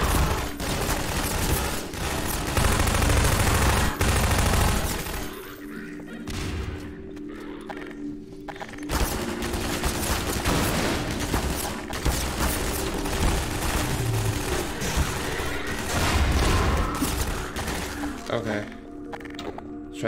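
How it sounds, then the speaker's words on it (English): Combine soldiers in Half-Life 2 fire in sustained bursts and scattered cracks of gunfire. The shooting is loud and continuous over twenty seconds, with brief lulls, mechanical clatter and a dense game soundscape. "Who the hell is shooting at me?"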